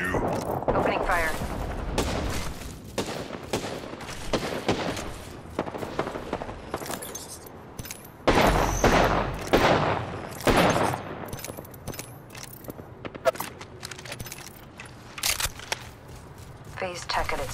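Rapid gunfire in a combat sequence, dense bursts of sharp shots mixed with impacts and effects, close and loud, with voices talking over much of it.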